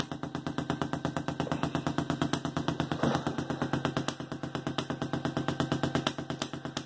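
A ramped full-bridge solid-state Tesla coil firing arcs, a loud, rapid, evenly pulsed buzzing crackle repeating several times a second without a break.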